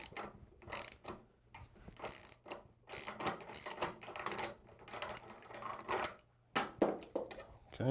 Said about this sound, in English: Get my 24mm socket. I'm going to loosen this up.